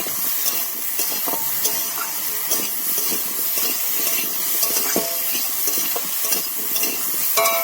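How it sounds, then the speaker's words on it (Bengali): Fried cauliflower pieces hiss and crackle in a pan as they are stirred with a spatula, a continuous close sizzle broken by scattered scraping clicks, with no talking. "দিয়ে ভালো করে কষিয়ে নেব আরেকটু।"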